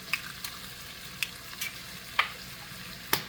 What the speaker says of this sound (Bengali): এই বাটারের মধ্যে আমি দিব ডিম